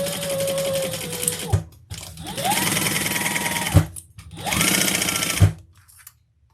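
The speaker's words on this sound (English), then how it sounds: "we're going to sew down the sides" A sewing machine stitches the side seams of a leather and vinyl crossbody bag in three loud, steady runs, each stopping abruptly with a short pause between.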